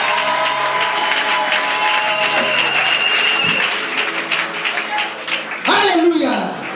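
A congregation at a religious wedding ceremony applauding: continuous crowd clapping filling the space at moderate loudness, with a voice speaking over it and a short rising vocal sound near the end.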